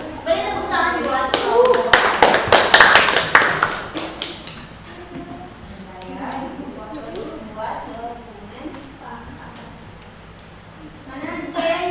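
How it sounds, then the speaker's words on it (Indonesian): A classroom audience claps for about four seconds, a loud dense burst of hand claps that fades into scattered taps and a murmur of voices, with people talking throughout. "Beri tepuk tangan buat"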